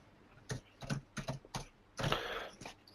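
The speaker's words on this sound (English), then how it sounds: "I'm just typing these in as we're going." Keys tapped on a computer keyboard in short separate bursts, several spaced clicks and then a denser flurry, fairly quiet and close.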